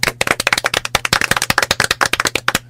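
A small group claps in an irregular burst during a late-night Korean presidential election result broadcast, sharp close hand claps scattered unevenly over a few seconds with no talking.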